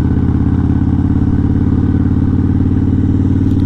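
A motorcycle ridden on a dirt track near a lookout in Tasmania runs with a loud, steady mid-pitched engine drone throughout, plus faint rattling from the bike over the rough ground.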